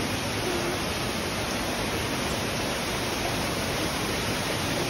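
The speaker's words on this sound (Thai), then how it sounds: "น้ำตก" A waterfall at a cave viewpoint in Nakhon Phanom pours continuously, a dense, steady broadband rush of falling water with no voices heard.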